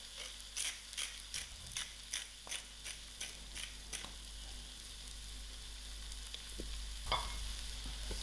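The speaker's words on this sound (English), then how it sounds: "I'm going to mix the fish with salt" Tinned fish mixed with salt in a pan over lowered heat, a utensil scraping and knocking against the pan in a steady rhythm of close, sharp strokes, with a faint sizzle underneath and no talk.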